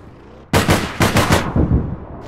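Gunfire in the online game APB Reloaded: after a quiet moment, a loud rapid burst of about eight sharp close shots cracks out in quick succession, with a brief pause midway.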